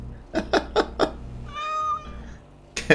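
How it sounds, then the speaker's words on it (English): A kitten in Dragon Age: Origins – Awakening gives a run of four short meows, then one longer drawn-out mew and a final meow, close and clear with a low hum beneath. "Let's just snatch that cat and take it."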